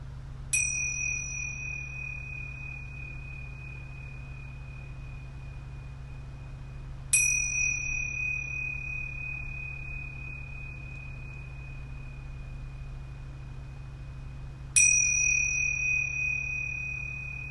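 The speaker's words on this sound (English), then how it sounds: "I'm going to ring these yoga bells 3 times" Yoga bells are rung three times, each a clear, bright metallic strike that rings on with a long, pure sustain, spaced about seven seconds apart against a quiet room with a low hum.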